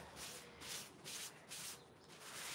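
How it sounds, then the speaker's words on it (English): Soft, rhythmic rubbing of a dry clean cloth over waxed furniture, lifting excess wax in repeated gentle back-and-forth strokes, quiet and close with no talking. "dry, clean cloth. And all you're going to do is just lightly rub"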